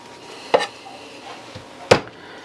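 Garlic cloves being smashed and chopped on a cutting board for truck stop chili: two sharp, close knife strikes about a second and a half apart, with a faint soft knock between them.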